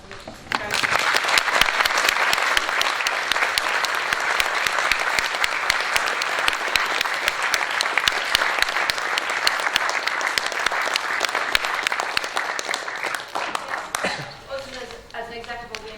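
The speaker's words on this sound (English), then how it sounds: "I'd like you to just join me in saying the round of applause" Sustained audience applause at a general election hustings in Warwick and Leamington, a dense roomful of clapping that holds steady for about fourteen seconds before tapering off as a voice resumes.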